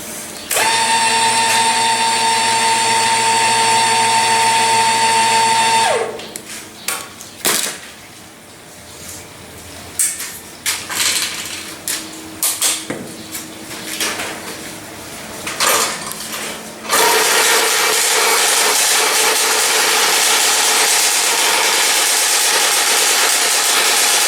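A motorized bike engine runs with a steady whining drone, then cuts out into scattered clanks and rattling before roaring back into a loud, harsh sustained run.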